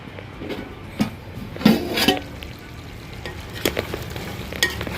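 Utensil scraping and stirring through sizzling Chinthamani chicken in a covered pan, a few louder scrapes over a steady low frying hiss.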